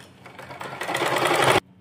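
An electric sewing machine runs a long stitch joining two panels of a palazzo trouser leg, whirring louder and faster before stopping abruptly; close and steady, with no talking.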